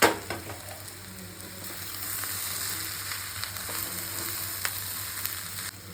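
Oil and tempering frying in a pan before mappillai samba rice poha goes in for upma, a steady close hiss and crackle with occasional stirring ticks.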